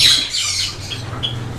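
Java sparrows call in a breeding aviary with a series of high, chirping squawks, loudest at the start and then scattered, over a steady low hum.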